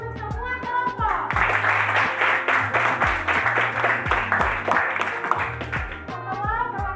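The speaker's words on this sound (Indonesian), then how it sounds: "Tepuk tangan untuk semua kelompok." Students in a classroom clap together for the presenting groups, a loud burst of hand claps rising quickly and sustained, with voices speaking before and after.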